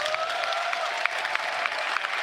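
A crowd in an esports arena at a Dota 2 Major in Stockholm, 2022, applauds its casters. The clapping is steady and fills the hall, with a few sharper claps standing out.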